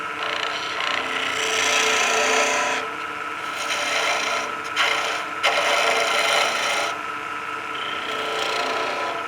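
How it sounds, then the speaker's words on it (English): A lathe chisel cuts and burnishes a wooden pizza cutter handle, giving a steady close rasping scrape that breaks off briefly around the middle before the cutting resumes. "You can see it burnishing the wood there as we cut."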